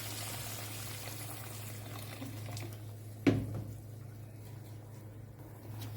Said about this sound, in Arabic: هنزل عليه بميه سخنه بتغلي عشان اكمل تسويه العرق